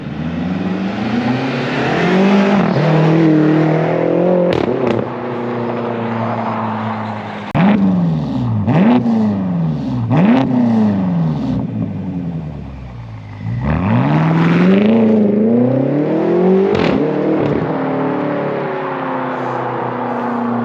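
A BMW X6M with its muffler deleted revs hard and loud close by, climbing and dropping through quick gear changes, with a big roaring surge as it passes.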